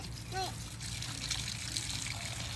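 Tap water runs into a drinking glass in a Thai home, a steady broadband trickle and splash lasting the whole moment, with a voice and an adult briefly audible over it.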